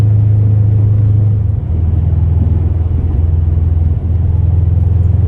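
Subaru WRX engine held at a steady loud rumble from inside the car, the tone stepping up and down slightly as the revs shift, no talk.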